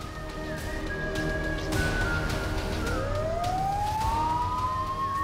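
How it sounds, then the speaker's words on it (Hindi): Ambulance siren wailing as it arrives, a rising and falling electronic tone that sweeps upward and grows louder, over steady background traffic noise with no talking. "एम्बुलेंस आ गई"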